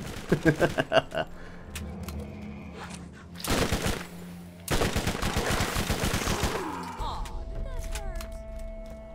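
Video game gunfire comes in a rapid burst of loud sharp shots at the start, then two dense stretches of heavy overlapping blasts and thuds. Electronic whines and tones close out the fast, chaotic firefight.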